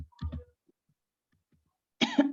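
Short cough from a woman who is ill with a cough and flu, a brief burst after a moment of quiet, heard after a little talk in an online class call.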